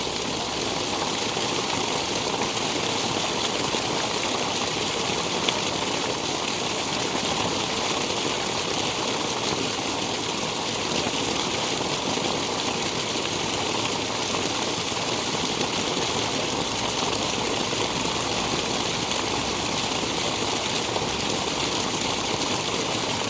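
Water gushes steadily from a tube well in Sabah, Malaysia, as a continuous rushing flow. An engine-like hum sits underneath, and the level stays even throughout with no talk.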